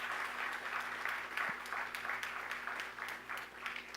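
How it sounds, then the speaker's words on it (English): A round of applause for housing staff at a home ownership ceremony in Chaguanas, fairly distant, even clapping from a gathered crowd that carries on steadily without a break. "Give them a round of applause."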